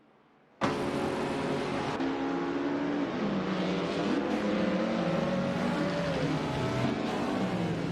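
Vintage 1950s Formula 1 cars race in an AI-driven racing simulator game at the Bahrain circuit: steady loud engine drone, with pitch sweeping up and down through gear changes, continuous from a sudden start.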